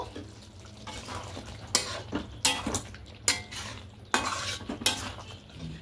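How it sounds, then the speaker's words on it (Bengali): A spoon stirs garam masala and ghee into potato dum in a pot, with repeated scraping strokes and clanks against the metal, each burst close and fairly loud over a quiet low hum. "এবার খুব ভালো করে মিশিয়ে নেব।"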